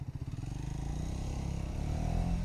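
A Triumph Scrambler 350XC motorcycle pulls away in first gear, its close single-cylinder engine thumping quickly and steadily rising in pace and loudness as it accelerates.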